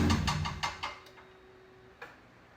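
A faulty Mazda Miata engine gives a quick run of sharp metallic ticks, slowing and fading after shutoff, then a couple of isolated clicks after a pause.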